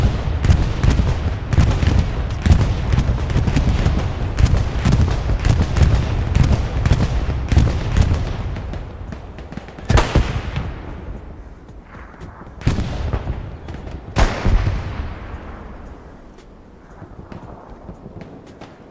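Bombing run explosions in Hell Let Loose on the Hürtgen map, starting as a dense, loud, continuous barrage of blasts and gunfire, then thinning into several separate heavy booms with long decaying rumbles.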